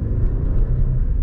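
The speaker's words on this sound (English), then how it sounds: "let's take a listen to the car" An Audi A7 cruises on the freeway, heard as a steady low engine and road rumble from inside the cabin, even and unbroken over a short stretch.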